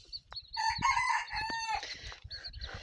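A rooster crows nearby, one full drawn-out call, with a few softer clucks and short chirps after it.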